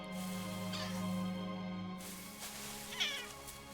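A kitten lets out a couple of drawn-out, plaintive meows, clear and fairly close, over a steady tonal hum of animation soundtrack.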